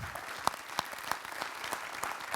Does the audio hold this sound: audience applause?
yes